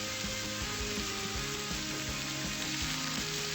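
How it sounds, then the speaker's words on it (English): Ribeye steak searing in a hot pan, a steady loud sizzle and crackle running throughout with no talking. "just searing the red meat sides of the steak just for a little bit, real quick sear"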